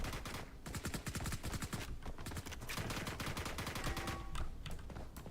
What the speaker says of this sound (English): I got my own teammate shooting at me.